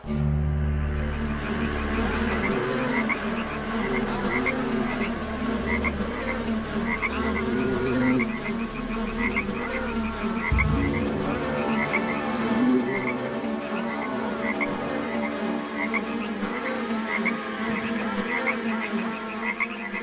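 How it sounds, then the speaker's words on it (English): A dense chorus of croaking frogs fills the scene, joined by a continuous buzzing drone of insects, steady and loud throughout. "God has sent us frogs and locusts."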